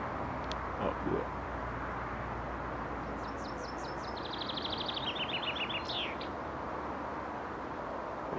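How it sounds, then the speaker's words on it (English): A bird perched up on an outdoor wire sings a series of quick, high chirping trills from a short distance, heard over steady background noise in a garden with an African keyhole garden bed. "there's a lovely bird just singing its heart out up there"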